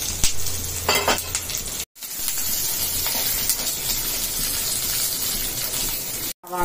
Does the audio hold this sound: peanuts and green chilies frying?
yes